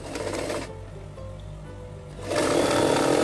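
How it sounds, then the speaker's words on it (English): A sewing machine stitching fabric whirs steadily, its motor dropping off briefly in the middle before running fast and loud again. "put it into the sewing machine and just run it through"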